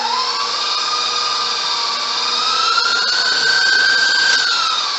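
Electric mixer whirring steadily as dark rum is blended into tiramisu cream, a continuous close motor whine that shifts slightly in pitch as it works, with no talking.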